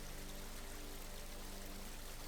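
Montmorency Falls in Quebec roars with a steady, dense rush of falling water, a continuous broadband wash that stays even and unbroken throughout, with no voices.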